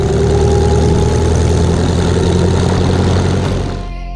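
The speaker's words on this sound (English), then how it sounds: "I call it the Amilcar Hispano because you've got an Amilcar chassis with a Hispano Suiza aeroplane engine." An Amilcar chassis fitted with a Hispano Suiza V8 aeroplane engine runs at a loud, steady, rumbling idle close by, the note dropping away near the end.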